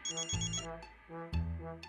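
Telephone ringtone trilling in a Marathi household drama, a bright repeating electronic melody with two bursts, close and clear with no talk over it.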